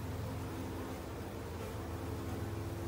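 Honey bees hum in a dense, steady drone during a hive transfer, close and continuous without pause or voices.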